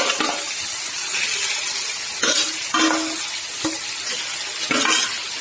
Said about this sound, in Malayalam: നമുക്കിനി അത് വറുക്കാനായിട്ട് വെക്കാം